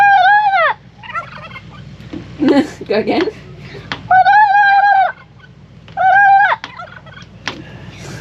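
Loud, warbling turkey gobbles on a farm burst out in three separate calls, with a person briefly speaking and other rustling noises between them.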